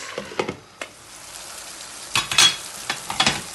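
Chopped peppers in oil with salt and black pepper fry in a pan, with a steady sizzle and crackle and intermittent louder pops and spatter bursts from close by.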